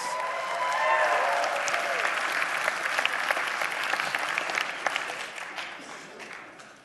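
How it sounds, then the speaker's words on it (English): An audience at a church gathering gives a sustained round of applause that swells early and then slowly fades, with faint voices heard under the clapping. "Give yourselves a round of applause."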